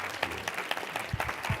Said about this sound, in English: First, another round of applause.